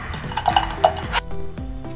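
A metal spoon presses and scrapes cooked tomatoes through a kitchen strainer for homemade tomato sauce, with clinks and scrapes against the mesh and bowl in an uneven rhythm, close and moderately loud with no talking.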